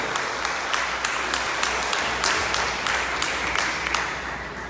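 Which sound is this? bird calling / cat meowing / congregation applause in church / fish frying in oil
congregation applause in church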